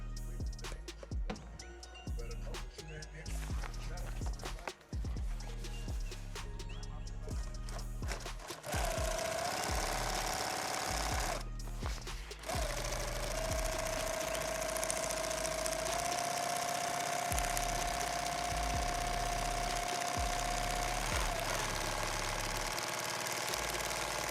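A sewing machine stitches a second seam on a rifle case, heard as a steady mechanical chatter that runs in bursts and then settles into a long continuous hum of stitching, close and fairly loud with no talk.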